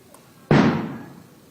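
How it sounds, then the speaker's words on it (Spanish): A single sharp, loud blast bursts from inside a narco bunker, with a sudden onset and a reverberant decay of about a second after brief quiet. "3 explosiones se escucharon ahí adentro."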